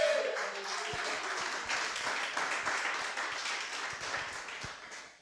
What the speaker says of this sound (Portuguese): aplaudir ao nome do nosso Deus